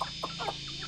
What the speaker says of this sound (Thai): ไก่ของเรา